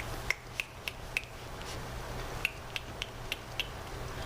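A storyteller mimics a woodpecker drilling into tree bark with sharp, quiet taps in two loose runs of four to five evenly spaced knocks, separated by a short pause, with no talk.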